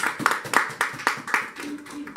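A church congregation at a Sunday service claps together in a steady rhythm to acclaim the Lord, with sharp, evenly spaced claps close by and voices faintly underneath.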